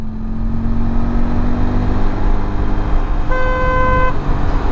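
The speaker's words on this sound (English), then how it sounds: "I have to honk sometimes." A motorcycle horn toots once in steady traffic, a short harmonic blast near the end sitting over continuous engine and road rumble from the moving bike.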